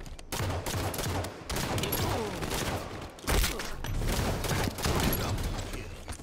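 Halo 5 free-for-all match: rapid bursts of pistol gunfire crackle almost continuously in dense volleys, loud and close, with short gaps between strings of shots.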